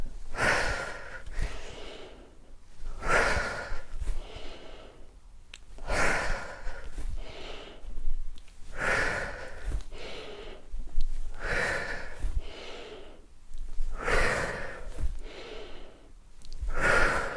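Deep, rhythmic breaths repeat roughly every one and a half to two seconds during a lymphatic drainage warm-up and stretching routine, each inhale and exhale loud and close, with no talking.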